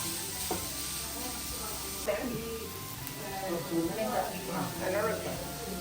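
Chicken cooked with onion, green chili and ginger sizzles in masala for Thalassery chicken kalmas, a steady frying hiss with occasional stirring scrapes, close and moderate, under a speaking voice.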